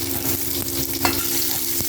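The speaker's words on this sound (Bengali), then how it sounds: "এবার কালো জিরে দিয়ে কুমড়োটাকে ভালো করে ভেজে দেবো" Pumpkin pieces fry with nigella seeds in oil, making a close, steady sizzle with stirring scrapes and light knocks throughout and no voices.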